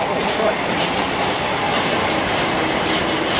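A train passing close along the rails, a loud continuous rush of wheel and carriage noise with faint rhythmic clacking throughout.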